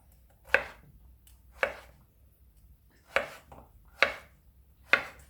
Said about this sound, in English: I'm just going to top and tail it, and then what I'll do is cut it down the middle like this